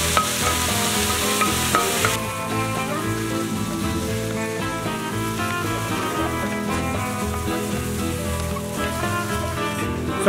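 Shrimp sizzling in a pan with sautéed onions and scallions, a loud, dense crackle that runs unbroken for about ten seconds. A burst of spattering at the start settles into an even hiss with no voices.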